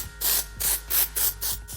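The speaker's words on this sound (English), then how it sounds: "And I'm using these coloured hairsprays." Coloured hairspray is sprayed onto hair in five quick bursts, each a close, bright hissing spray lasting a fraction of a second, separated by short gaps.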